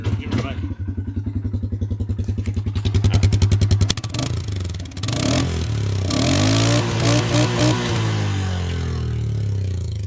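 The 570 cc single-cylinder engine of a 2025 Polaris Sportsman 570 2UP ATV chugs at idle, then revs up and settles into a steady, throaty run, close by, with a voice talking over it.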